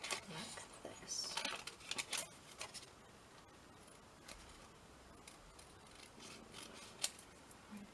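Scissors snip out a paper embellishment in quick, close clusters of crisp cuts, busiest early on, with quieter rustling of paper and a sharp click near the end.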